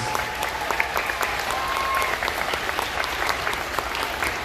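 An elementary school awards ceremony audience claps for students, a continuous, fairly loud roar of many hands clapping at once, even and unbroken from start to finish.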